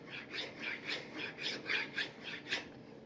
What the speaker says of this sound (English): all I'm doing is taking just a standard flat file and just doing a couple passes.